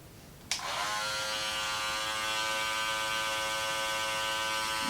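An Andis Masters Cordless hair clipper switches on with a click and settles into a steady, close, high-pitched electric buzz that holds evenly throughout.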